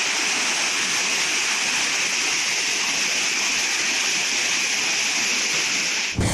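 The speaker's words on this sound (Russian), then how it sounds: "местные жители наблюдали самый настоящий водопад на ступеньках" Rainwater cascading down outdoor steps like a waterfall in a residential district: a dense, steady roaring rush of water, loud and unbroken, cutting off abruptly at the end.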